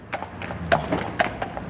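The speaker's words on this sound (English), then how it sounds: "all the brewery's deliveries within 5 miles are made by horse-drawn dray" Hooves of brewery dray horses, a pair named Lola and Boxer, clip-clop on a hard surface in an uneven walking rhythm, close and crisp, with faint voices nearby.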